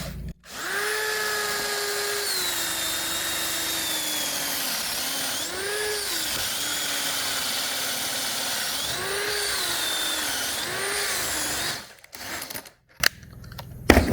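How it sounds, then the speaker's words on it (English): Power drill boring a 35mm concealed hinge hole into 3/4-inch plywood through a jig, a steady loud whine with a slight pitch dip and rise as the bit cuts, holding for about eleven seconds before stopping, then a few clicks and handling knocks. "put it on your drill and start drilling"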